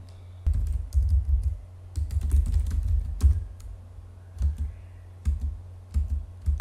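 Router configuration commands typed on a computer keyboard: bursts of quick, close key clicks with short pauses between words and lines.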